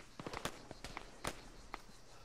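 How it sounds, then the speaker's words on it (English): Video game gunfire in Arma: several sharp, cracking shots in an irregular burst, some near and loud, others lighter and more distant, with no speech over them. "You guys are shooting at us."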